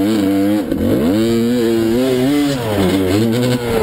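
Dirt bike engine revving hard in first gear, a loud, close, continuous buzzing drone whose pitch climbs, dips briefly and climbs again with no talk over it.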